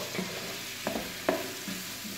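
Garlic sizzles in melted butter in a pan, a soft steady frying hiss with a few brief stirring clicks and scrapes, close and moderately quiet.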